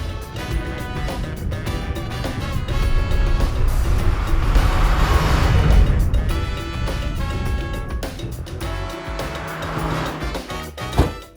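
An older Mazda MX-5 sports car on the move, its engine note rising and falling through gear changes, with rushing road and wind noise building to a loud pass mid-way, heard alone without talk.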